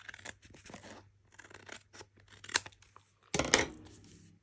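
Scissors snip through a scrap of paper in a few quick, close cuts with short pauses between them, ending in one louder, sharper snip, with no talking.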